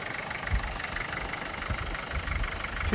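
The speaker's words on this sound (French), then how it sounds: "tu démarres ton moteur" A stuck 4x4 off-road vehicle's engine idles steadily at close range, a low continuous rumble with slight irregular knocking throughout, no voices over it.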